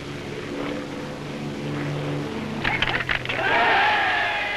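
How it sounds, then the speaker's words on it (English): Amelia Earhart's propeller-driven land plane arriving at Oakland, California, after a solo Pacific flight from Hawaii; a steady engine drone builds and grows louder, with a brief burst of crackling noise partway through. "The plane arriving at Oakland, California, is piloted by Miss Amelia Earhart"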